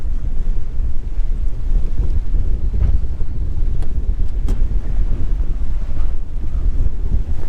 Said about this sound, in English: The wind's kicked up about 5-10 miles an hour more, and storms are coming.